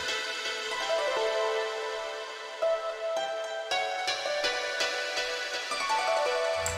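A plucked harp from a free software instrument ripples through quick repeating note patterns, panned across the stereo field and sitting fairly quietly in a busy electronic jungle-style mix with no voices.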